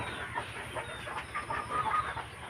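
Several laying hens cluck softly and continuously nearby, with a quiet background hum.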